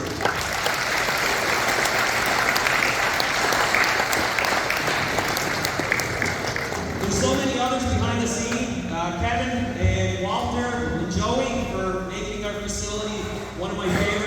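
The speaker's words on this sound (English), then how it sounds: "Let's hear an applause for this group." Banquet audience at a minor hockey awards night breaks into sustained applause, dense and loud at first, then thinning as a voice starts speaking over the fading claps.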